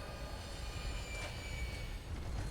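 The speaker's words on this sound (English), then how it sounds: "there's a noise that the railroad gun, that the one that shoots the railroad spikes, almost sounds like an engine, like a train engine" In a survival video game, the railroad spike gun gives off a continuous rumbling drone much like a train engine, steady and loud with a faint high whine on top.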